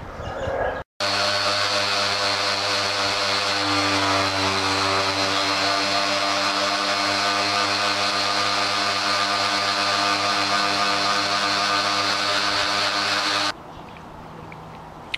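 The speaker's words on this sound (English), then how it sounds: "we'll get as much of it smooth and true as we can with the power sanders" Power sanders working over the bodywork of an FZR motorcycle under restoration, a loud, steady, continuous whine and drone with strong humming tones that runs unbroken for most of the time, then cuts off abruptly near the end.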